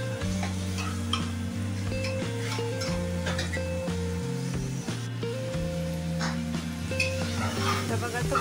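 Ridge gourd fries and crackles in a pan as it is stirred, a close, steady sizzle with scraping and light metallic clinks, while steady music plays underneath.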